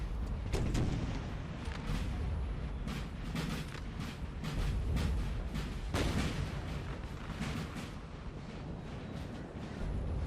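Napoleonic artillery cannons fire repeatedly during a large 4v4 battle in the Napoleon Total War video game. Deep booms and sharp cracks overlap in a dense, irregular barrage over a constant rumble of battle noise, with no speech.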